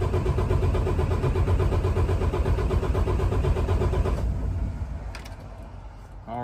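Car engine cranking on the starter during a relative compression test, a loud rhythmic pulsing chug for about four seconds that then cuts off, leaving faint clicks.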